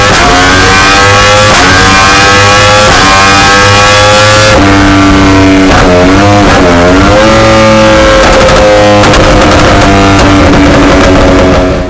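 A tuned Yamaha R1 power bike with a refreshed engine and custom ECU, making over 205 horsepower at the rear wheel, revs hard and loud right up close, climbing and dropping through sharp high-pitched sweeps with no pauses.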